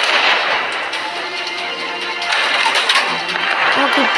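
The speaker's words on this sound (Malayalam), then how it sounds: "ഇവിടുന്നൊക്കെയാണോ വെടി വരുന്നത്?" Gunfire shots crack and boom out in a rumbling, echoing volley, loud and sustained over a dense wash of background noise, with faint voices mixed in.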